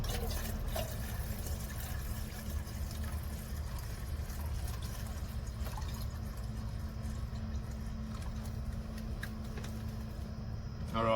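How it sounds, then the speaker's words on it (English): Water is poured from one container into another inside a van in Korea, a faint liquid trickle and splash under a constant low engine-like hum, without speech. "I'm gonna pour my water out into here."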